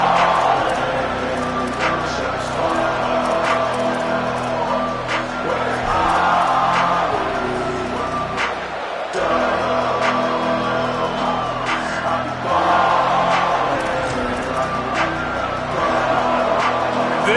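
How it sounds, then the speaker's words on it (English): Football stadium crowd at the start of a 2027 season game, a dense steady roar of cheering with rising swells and whoops throughout, while a commentator speaks over it. "This crowd ready to make its presence known."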